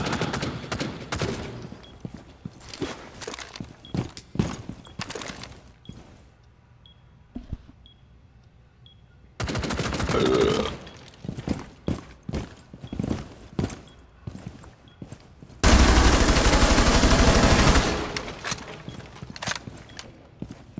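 Bursts of gunfire from the video game Rainbow Six Siege, with sharp repeated shots scattered throughout and two long, loud dense volleys, the second near the end, over game footsteps and movement.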